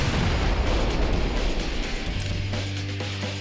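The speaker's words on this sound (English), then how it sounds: "Freeze the rockets and then fire as many as you can before the timer runs out." Rockets fired and exploding in the ULTRAKILL video game, a dense continuous roar of rapid blasts and booms, loud and close, easing into a low rumbling hum.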